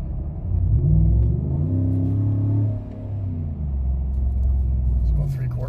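A Chevrolet Silverado with an aFe intake revs hard under acceleration, a deep rumbling engine note swelling, easing briefly, then climbing again at steady loudness throughout.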